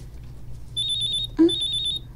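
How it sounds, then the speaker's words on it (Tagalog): A cellphone rings in a bedroom, with two bursts of bright electronic beeping trilled in a steady rhythm, broken by a short thud, over a low background hum. "Niring ang iyang cellphone ay."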